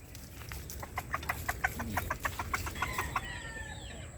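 Chickens cluck in a quick series of short, bright notes, fairly close, with a low steady rumble underneath and a few soft calls trailing off at the end.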